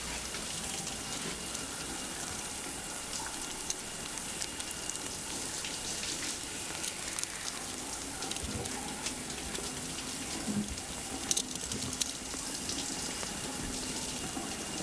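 A shower runs in Death Stranding, its water spraying in a steady, even hiss with small splashy flecks for a long stretch, moderately quiet, with no voices.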